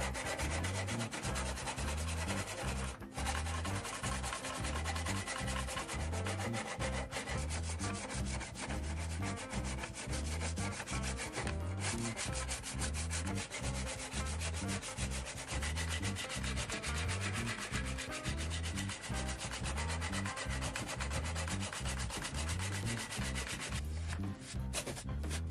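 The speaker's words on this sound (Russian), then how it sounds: "Получилась вот такая удобная штука для шлифовки." Steady back-and-forth rubbing of sandpaper on wood with a homemade sanding block, a rhythmic rasping stroke repeated continuously and close up, with brief pauses now and then.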